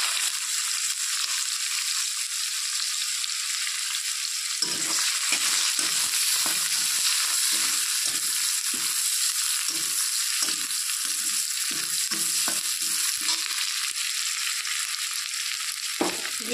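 Chopped onion hits hot oil already seasoned with a bay leaf and whole cumin, giving a steady bright sizzle throughout with light stirring scrapes and clatters joining partway through, close and continuous with no talking.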